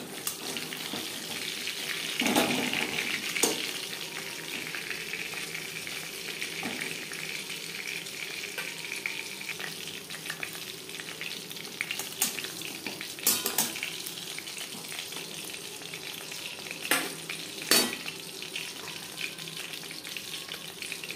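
Fish frying in oil over low to medium flame in a home kitchen for crispy fried fish, a soft steady sizzle with occasional sharper spatters and clinks, fairly quiet.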